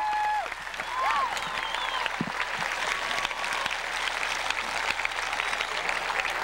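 An outdoor crowd applauds steadily after a performance of Amazing Grace at Seneca Falls, a dense wash of clapping with a few faint whistles rising above it.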